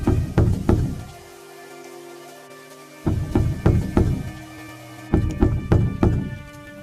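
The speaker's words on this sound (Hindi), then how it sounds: "और मंगतू के घर का दरवाजा खटखटाते हैं।" Knocking on a house door during heavy rain at night: three clusters of firm, loud knocks, each a few quick raps, separated by short pauses, close and alone without talk.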